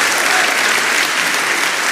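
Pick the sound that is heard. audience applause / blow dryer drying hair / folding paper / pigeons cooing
audience applause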